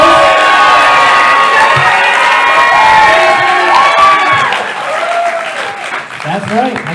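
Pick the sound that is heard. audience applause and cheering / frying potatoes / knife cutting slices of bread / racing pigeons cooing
audience applause and cheering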